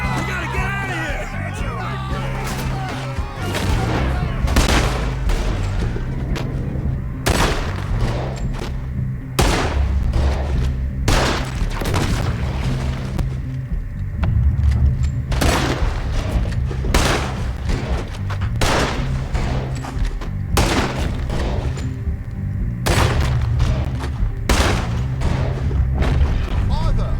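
Heavy gunfire in a Red Dead Redemption 2 shootout: loud, repeated booming shots at irregular intervals for nearly half a minute, some clustered in quick volleys, with shouting voices between them.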